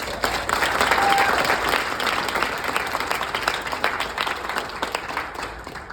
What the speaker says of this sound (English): please give a round of applause to Bruce Rivers